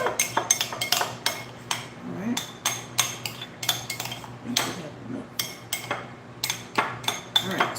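A utensil clinks and scrapes rapidly against a bowl while mayonnaise is stirred for homemade tartar sauce, an irregular stream of close, bright taps with faint background hum.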